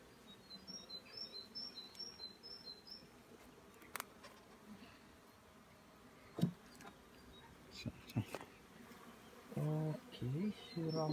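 Honeybees buzz around an open beehive during spring inspection in an apiary, a low steady hum under occasional birdsong, rustling frames and a few handling knocks.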